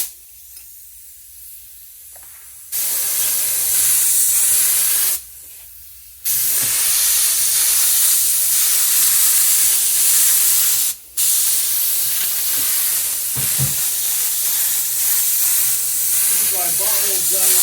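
A spray can of adhesive coating a panel: long, loud, close hissing bursts broken by short pauses, with a faint voice near the end.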